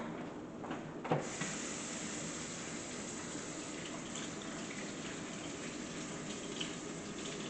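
Tap water running steadily during washing up in a kitchen, a constant close hiss with a brief knock near the start and a few faint clinks later, no talking.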